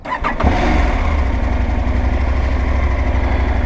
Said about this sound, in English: the sound of that engine is very familiar to me